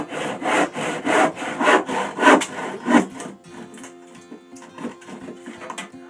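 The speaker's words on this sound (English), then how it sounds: "So I'm just going to grab my handsaw" A handsaw cutting through wood while building a saw bench, about six rhythmic rasping strokes in close succession, then quieter, lighter scraping as the cut slows and ends.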